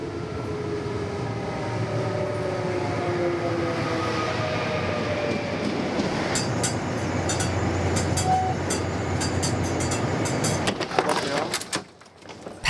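A train rumbles along steadily with a low continuous roar, then rattling clicks and squeals near the end as it slows, with faint voices under the noise.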